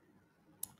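A single quiet computer mouse click, close and sharp, after a near-silent pause.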